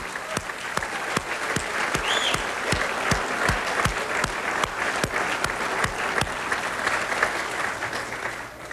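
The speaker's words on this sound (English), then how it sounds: "Let's give the press a round of applause for covering the Reform Party." Large audience at the 1999 Minnesota Reform Party convention applauds the press, a steady wash of clapping from a crowd filling the hall, loud and sustained throughout.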